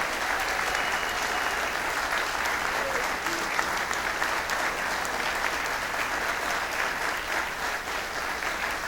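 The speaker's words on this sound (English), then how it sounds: "That applause can be heard, I'm sure, by all these great heroes." A crowd at the Cicada Club applauds during a Dean Mora orchestra show. Dense, even applause keeps a constant level throughout, filling the room without pause.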